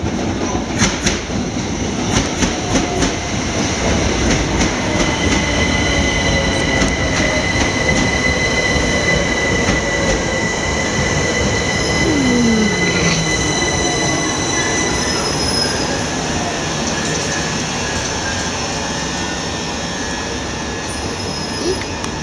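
A class 377 train rolls into Barnham Station with sustained high metallic wheel squeal and rumbling, clicking rails, loud and close throughout, no voices.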